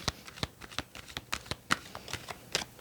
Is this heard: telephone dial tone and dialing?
no